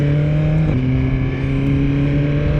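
Suzuki GSX-R1000R sport motorcycle engine droning loud and steady close up, with a brief pitch drop near the start as it makes a clutchless gear shift, then carrying on strongly at the new note.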